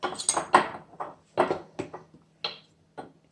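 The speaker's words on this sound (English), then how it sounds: "It's harder to mix this." Flour and water being stirred together for a sourdough starter, a spoon knocking and scraping against a bowl in a series of irregular clinks and taps with short pauses between strokes.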